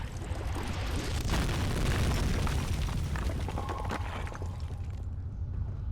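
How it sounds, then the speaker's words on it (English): A deep, rumbling explosion blasts through rubble in the horror game Amnesia, a dense roar of low boom and debris that stays loud and fairly even throughout. "After creating an explosion to clear the rubble blocking the path, you proceed further into the storage."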